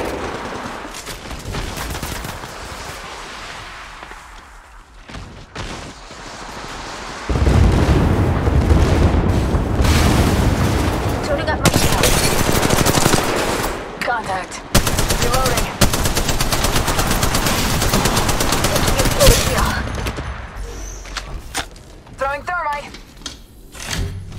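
Gunfire in the Apex Legends Mobile video game: dense bursts of automatic weapon fire with explosions and booms, loud and sustained, while character voices call out over the shooting.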